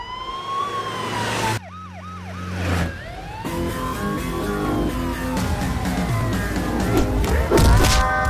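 A loud ambulance siren in a dramatic film scene wails in rising and falling sweeps, with a brief fast warble partway through, over dense background sound and no speech.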